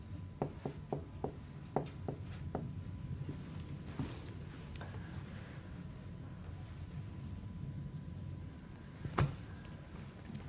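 Chalk or marker writing on a board during a calculus lecture: a quick run of faint taps and strokes early on, then a long quiet stretch with a single sharp tick near the end.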